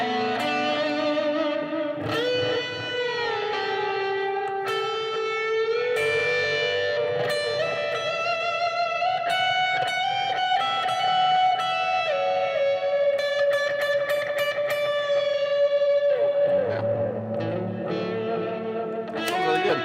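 Electric guitar played through a POLY Verbs reverb pedal with a little delay added, sustained distorted lead notes and chords washing into a long, lingering tail over about twenty seconds.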